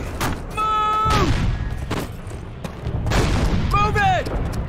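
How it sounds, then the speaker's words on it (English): A cannon fires in Call of Duty (2003), with heavy booming blasts and explosions in a battle, while soldiers' voices and shouts sound around them. "Cannon's about to go boom!"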